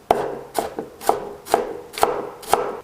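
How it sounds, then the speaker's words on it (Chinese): Half an onion diced on a cutting board with a kitchen knife, six crisp, evenly spaced chops landing about every half second, close and clear with no talking. "半个洋葱，先切丝，再切成小碎丁。"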